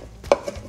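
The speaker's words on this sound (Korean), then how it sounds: "잘게 썰어주시고요," A knife chopping dried sea staghorn (cheonggak), soaked in water, finely for kimchi: one crisp chop near the start and a fainter second one, alone and close.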